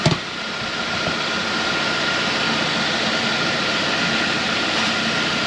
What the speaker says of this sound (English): I'm gonna let this thing idle here for a little bit